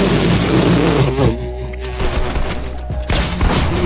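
Rapid bursts of gunfire in a shooter video game played on an Azeron gaming keypad, loud and continuous with booms and engine-like rumble mixed in.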